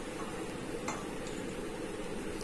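Refined oil heating on a non-stick tawa gives a steady, even sizzle and hiss throughout, with a faint clink or two of a utensil.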